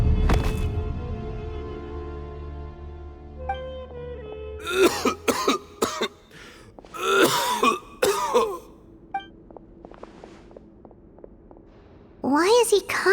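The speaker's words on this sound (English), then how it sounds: "Why is he coughing so much?" A male character in the video game Genshin Impact coughs and clears his throat in repeated harsh bursts, loud and close, over a sustained low musical drone.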